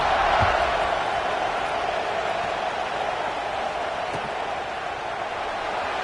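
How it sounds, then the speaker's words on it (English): Football stadium crowd in Miami buzzing after a score, a steady dense roar of many voices filling the stands without pause, loud and sustained throughout. "this crowd is buzzing after that last score"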